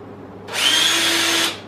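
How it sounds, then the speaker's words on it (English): A drill countersinks a hole in a horizontal stabiliser part for an aircraft build, making one loud, close, steady whine of about a second that starts and stops abruptly. "Now we're going to countersink it."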